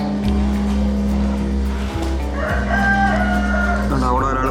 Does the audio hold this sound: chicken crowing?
yes